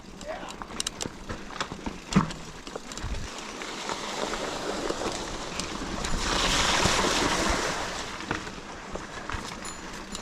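Gusty wind buffeting a mountain bike trail, rough roaring rushes that swell and fade, rising to a sustained blast midway, with thumps and clatter from riding.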